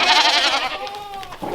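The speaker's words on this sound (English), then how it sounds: "Let's just go feed the goats for now" Goat bleating close by, a loud wavering cry that trails off into a thinner tremulous call, with a brief noise at the end.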